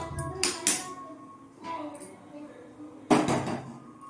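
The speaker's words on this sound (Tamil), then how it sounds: "இப்போது ஸ்டவ் ஆன் பண்ணி பாத்திரம் வச்சுக்கலாம்." A few metallic clanks and knocks of a cooking pan being set down on a stove, scattered with quiet pauses between, the last one loudest.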